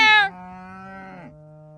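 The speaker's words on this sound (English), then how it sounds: "There's a cow over there!" A cow moos loudly and close by on a farm: a single drawn-out, strongly tonal call that starts bright, settles into a steady low drone and then fades.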